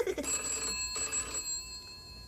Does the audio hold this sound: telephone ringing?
yes